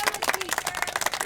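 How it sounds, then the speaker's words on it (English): A group of students claps for a classmate at a school Red Ribbon Week event, a short burst of quick, close, scattered handclaps with some voices mixed in. "Y'all give her a round of applause."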